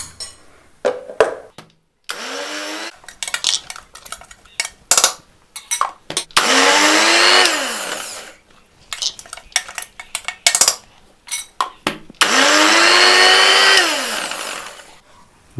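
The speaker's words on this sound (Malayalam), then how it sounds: "നമ്മൾ മിക്സി അരയ്ക്കാം." A mixer grinder grinding coconut chutney whirs loudly in several bursts of a few seconds each, with clattering of a jar and utensils between runs.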